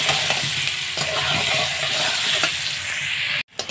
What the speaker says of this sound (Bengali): এরপর কড়াইতে আলুগুলো দিয়ে হালকা আঁচে ভেজে নিতে হবে, যতক্ষণ না একটু লাল লাল হয়ে যায় ততক্ষণ।